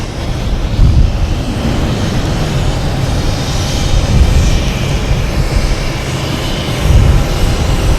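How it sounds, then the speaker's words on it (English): A JetBlue airliner arriving from Orlando at Boston Logan gives a loud, continuous engine rumble, with low-end swells that rise and fall as it approaches. "Next to arrive is JetBlue coming in from Orlando."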